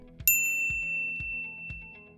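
A bright notification bell rings once with a clear ding that rings out and slowly fades, over a low, rhythmic musical backing.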